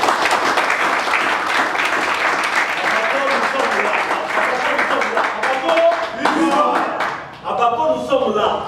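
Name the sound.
crowd applauding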